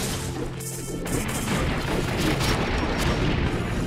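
Gunfire in the Secret Ponchos video game rattles out as dense, continuous cracking bursts, loud and close throughout, with no clear pauses between shots.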